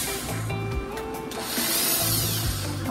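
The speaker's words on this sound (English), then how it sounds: "We'll drill our pilot holes." A power drill whirs in two short bursts, rising and falling as it bores pilot holes into wood, with a quieter pause between them.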